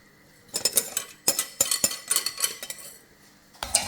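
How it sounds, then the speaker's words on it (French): A utensil scrapes and clinks against a metal saucepan in quick, irregular strokes, close by, as a pastry cream mixture is stirred until it thickens. "on continue à touiller jusqu'à ce que le mélange épaississe"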